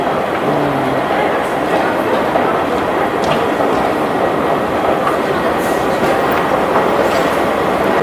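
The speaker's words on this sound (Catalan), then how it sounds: "Vaya pedazo de metro." A Lisbon metro train runs with a steady rumbling roar and rail clatter, the noise continuous from start to finish, and a voice speaks briefly early on.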